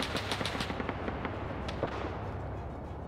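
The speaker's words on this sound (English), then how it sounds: "He also has a rear shooter here, the tail gunner." An aircraft tail gunner's machine gun rattles in quick, sharp bursts through the first half of a video game battle, then fades under a steady rumbling background.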